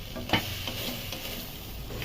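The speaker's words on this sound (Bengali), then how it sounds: "মশলার সাথে মিনিট দেড়েক নাড়াচাড়া করে মিশিয়ে নিয়ে দিয়ে দিচ্ছি" Drumstick pieces are stirred with spices in a frying pan, giving a steady close sizzle with brief scraping strokes of the spoon.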